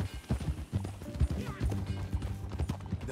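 Horse hooves clip-clopping in the Red Dead Redemption 2 video game, a steady rhythmic series of hoofbeats under game dialogue and ambient sound.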